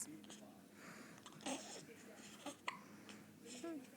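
A baby hiccuping indoors, a few soft, brief hiccups spaced irregularly at close range, faint and quiet amid low room noise.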